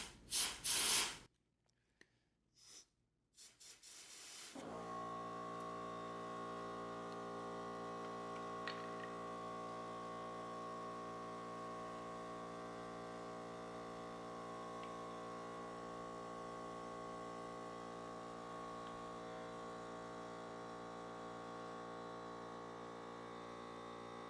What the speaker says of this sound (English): I knew that compressor was going to come on eventually.